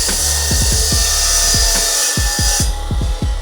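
A hand saw cuts through metal bars for a homemade go-kart frame, giving a rapid run of rhythmic rasping strokes, close and loud, with a brief pause partway through.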